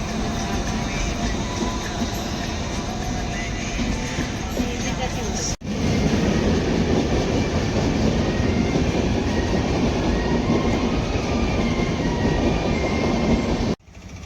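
A goods train rumbles past close by, loud and continuous, with rhythmic clatter of wheels on rails and occasional metallic squeals.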